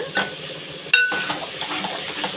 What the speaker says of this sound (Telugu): నేను బీరకాయలు కూడా వేసేసుకున్నానండి ఇది నూనెలో ఏగితేనే రుచిగా ఉంటుందన్నమాట